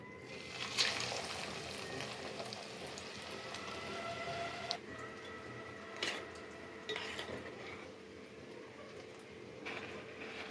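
Breaded chicken cutlets being lowered one at a time into hot oil, with a steady broadband frying hiss throughout and a few brief sharper spatters and clinks as each piece goes in.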